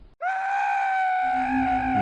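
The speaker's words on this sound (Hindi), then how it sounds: "नील डर के मारे चिल्लाने लगा।" A man screams in terror, one long sustained harmonic cry after a brief silence, loud and close, in a haunted-road ghost story, with a low rumble rising beneath it near the end.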